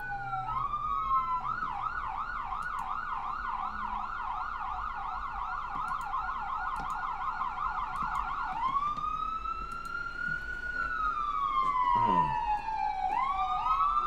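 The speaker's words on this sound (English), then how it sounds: "Is that an ambulance? Yes, that's an ambulance." Ambulance siren passing nearby on a city street, a loud wailing sweep that cycles quickly, then shifts to slower long rising and falling tones while passing, with faint traffic beneath.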